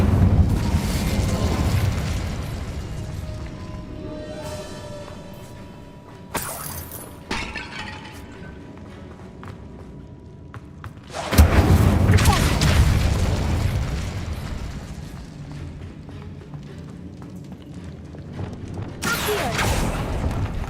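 Fire spell blasts cast in the video game Hogwarts Legacy, loud booming bursts with crackling roar, several sharp hits over a steady rumbling game soundscape, with a strong blast near the middle.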